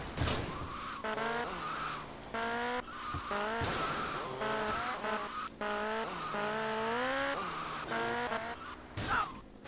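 A motorcycle engine in GTA: Vice City whines through rising and falling pitch sweeps, with repeated abrupt cuts and tire skidding, loud and continuous across the whole stretch.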